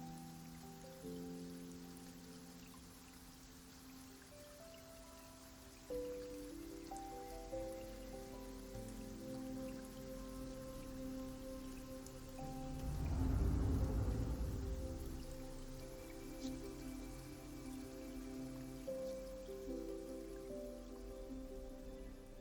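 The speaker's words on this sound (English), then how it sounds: "Where did all this rain come from?" Steady rain patters on a surface in the video game Wuthering Waves beneath a sustained musical drone, with a brief low rumble swelling midway like distant thunder.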